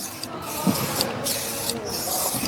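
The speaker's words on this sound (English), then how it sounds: "just apply a little bit of adhesive spray" Short hissing bursts of adhesive spray hit a knee before taping, three quick pressurized puffs separated by brief pauses, close and crisp.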